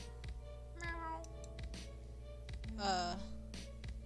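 A small, high kitten meow from the video game Pesterquest rises over a steady electronic music bed, with a few soft clicks and tones scattered around it.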